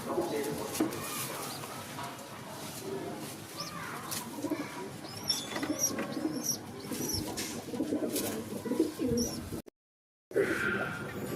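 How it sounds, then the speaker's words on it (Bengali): Adult wing-clipped pigeons, kept as domestic birds, coo softly and repeatedly among other chirps and scattered background noise. Voices murmur faintly nearby, and the sound cuts out briefly near the end. "ডানা কাটা আছে, ধাড়ি পায়রা।"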